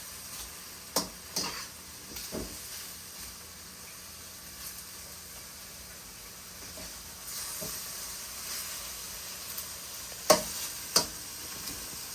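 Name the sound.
pork and onions stir-frying in a pan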